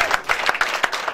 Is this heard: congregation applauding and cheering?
yes